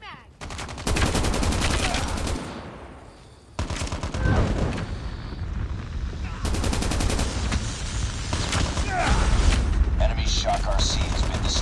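Call of Duty Mobile team deathmatch gunfire destroys a Shock RC, with sustained loud automatic bursts, a brief lull, then continuous heavy firing mixed with in-game announcer voice lines.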